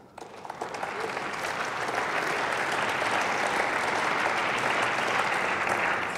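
Applause fills the German Bundestag chamber, building quickly from a first few claps into sustained, dense clapping from many members that holds steady to the end.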